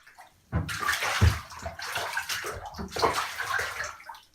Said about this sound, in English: As I recorded the water sound in my bath at home